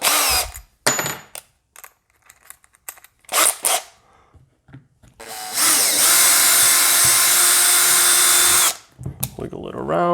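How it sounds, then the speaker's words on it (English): Power drill boring into a skate shoe while installing a Nash tendon guard: a few short bursts, then a sustained high whine for about three seconds, close and loud, amid handling clicks. "And drill in and out."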